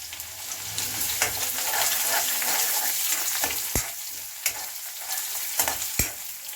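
Onion and garlic paste frying in a pan, a steady close sizzle with broadband crackle, punctuated by a few sharp spatula scrapes and clacks toward the end.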